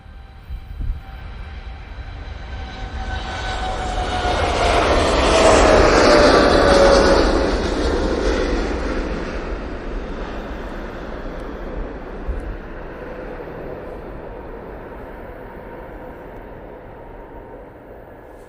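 A Wamos Air airliner departs Manchester Airport for JFK, its roar swelling to a broad peak as it passes and then slowly fading into a low lingering rumble.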